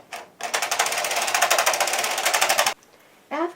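Ultimate Sweater Machine carriage knitting rows of yarn, a rapid rattling clatter sustained for about two seconds between short quiet pauses, close and loud.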